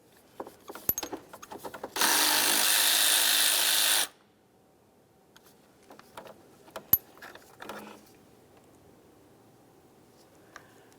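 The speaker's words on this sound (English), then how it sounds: "We'll go ahead and remove that big bolt." Power tool spinning out a large bolt on a 2002-2005 Ford Explorer serpentine belt tensioner, one loud two-second burst amid scattered metallic clanks and tool handling.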